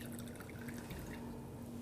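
Water drips through a hole in the bottom of a beaker in a soil strength test, a faint, steady patter of small drops over low background hum, with no talk.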